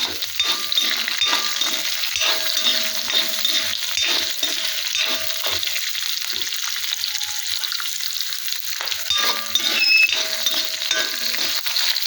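Garlic fries in a pan for tomato chutney, a loud, close, continuous sizzle and crackle with occasional stirring scrapes, no voices over it.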